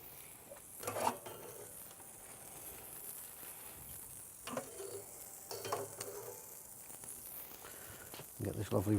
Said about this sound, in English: Straight away you can hear it sizzling.